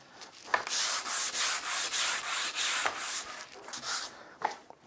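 A moulded wooden picture frame is being sanded, giving a steady, close, breathy rasp that pulses in quick repeated strokes and eases off near the end.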